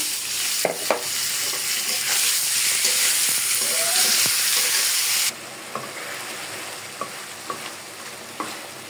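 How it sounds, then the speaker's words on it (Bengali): Spice-marinated broiler chicken is tipped onto fried onions in a pan: a loud, steady sizzle with stirring scrapes that drops to a quieter frying hiss partway through, with no talking. "এদিকে পেঁয়াজটাও হয়ে গেছে, আমি এখন দিয়ে দিচ্ছি মাংসটা।"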